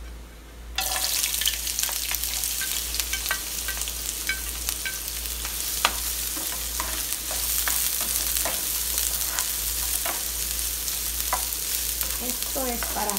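Leftover carne asada fries in a pan with a steady close sizzle, a dense crackling hiss broken by occasional clicks and scrapes of stirring over a low hum.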